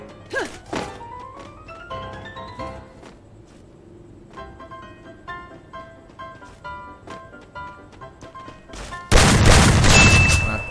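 Shotgun blasts and heavy thunking melee hits land on enemies in a Free Fire firefight, a cluster of sharp impacts at the start, scattered game effects and tones through the middle, then a loud sustained burst of noise near the end.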